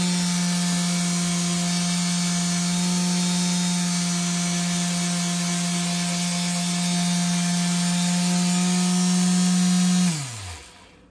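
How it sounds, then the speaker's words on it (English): A power sander works on two small pieces of oak being prepared to hold a mirror aboard a narrowboat, giving a steady, fairly close motor whine that holds even for about ten seconds, then spins down. "Just sanding up these two little bits of oak here to take the mirror"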